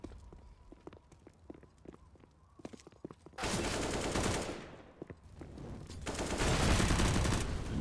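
Gunfire in a competitive CS:GO match, scattered faint shots and footsteps at first, then loud bursts of rapid automatic fire that continue in dense volleys through the rest.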